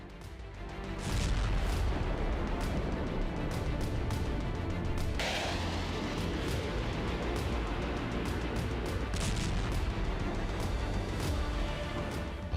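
Continuous heavy booming and rumbling from missile and bomb strikes, BrahMos missiles and SCALP and HAMMER bombs, rolls on loud and unbroken for the whole stretch, with a sharp crack partway through and no voices.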